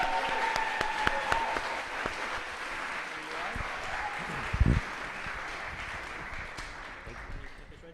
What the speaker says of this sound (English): please, round of applause for our first team,